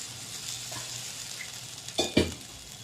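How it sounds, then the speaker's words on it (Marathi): Steamed brinjal cooks in a pan with a steady low sizzle, then two short, louder stirring scrapes come close together near the end. "आता यामध्ये थोडे हे वांगे शिजवून घ्यायचे आपल्याला"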